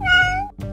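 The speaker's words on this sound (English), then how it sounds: "if we become a cat, we may not be able to control our meow meow" A cartoon cat gives one drawn-out, clear meow that rises and falls, loud and close. A short second meow starts right after it.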